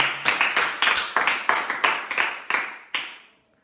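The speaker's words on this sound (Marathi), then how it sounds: "एका टाळ्या वाजवा" Sharp claps ring out about nine times in an even rhythm, close and loud, then stop, cheering a player who solved a coin-and-matchstick puzzle game.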